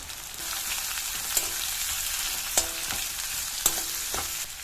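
Chopped onions sizzle steadily in hot oil in a pan, a loud continuous hiss broken by three or four sharp metallic taps of a utensil against the pan.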